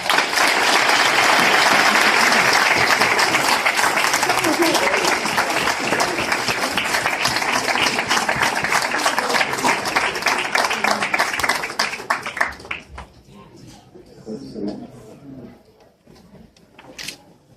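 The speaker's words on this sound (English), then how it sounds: "Another round of applause." A large crowd applauds loudly and continuously for several seconds before the clapping thins out and dies away to a few scattered claps.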